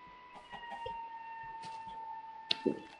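Chickens cluck in the video game Minecraft, a few short soft clucks spread out over a steady electronic background tone, then a louder burst near the end, with no speech.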